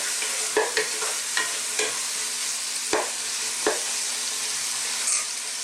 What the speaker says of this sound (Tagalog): Yan po, haluin muna natin.